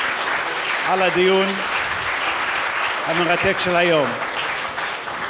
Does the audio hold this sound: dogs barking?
no